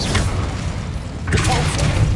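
An Incendio fire spell in Hogwarts Legacy bursts out as a booming whoosh with crackling rush, a second surge arriving midway, loud over game ambience.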